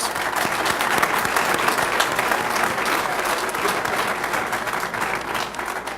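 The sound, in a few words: audience applause at police awards luncheon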